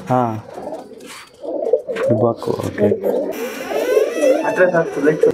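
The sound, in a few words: tumbler pigeons cooing in loft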